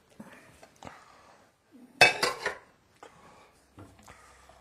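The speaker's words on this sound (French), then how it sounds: "On va bien mélanger." Utensils scraping and clinking against a pan while duxelles are stirred and mixed, in short separate bursts with one louder clatter in the middle and quiet gaps between.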